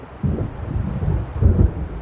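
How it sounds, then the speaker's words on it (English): Low rolling thunder of an approaching storm near a lakeside shore in the Alan Wake video game, rumbling in uneven swells with a stronger surge near the end, under a soft hiss of wind. "It seems there's a storm coming."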